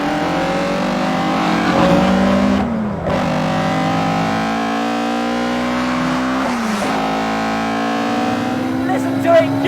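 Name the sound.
MST Escort MKI rally car driving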